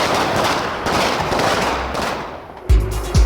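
Fireworks at a religious procession in Quito, Ecuador, a rapid crackling barrage of bangs in the open air, ending in a couple of heavier low booms.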